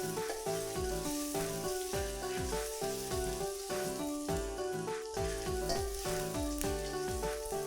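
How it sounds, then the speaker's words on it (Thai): Pounded coriander root, garlic and pepper stir-fry in hot oil, producing a dense, continuous sizzle and crackle that persists throughout under background music. "พอน้ำมันร้อนแล้วเนี่ยเราก็จะใส่ตัวรากผักชีกระเทียมพริกไทยโขลกลงไปเลยค่ะ หลังจากนั้นนะคะก็ผัดค่ะให้มีกลิ่นหอม"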